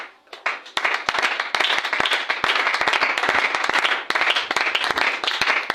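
Congregation at a French-language church teaching session claps and cheers loudly, a dense, sustained burst of applause with sharp hand claps throughout, rising quickly after a brief quiet start and staying full for several seconds.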